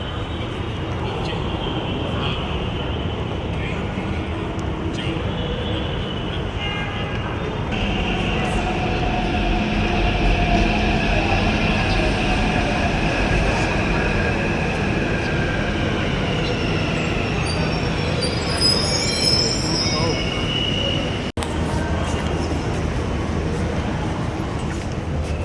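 Hyderabad Metro train running with a steady rumbling roar and rising wheel hiss and whine that swells midway, heard from inside the carriage with passenger voices beneath.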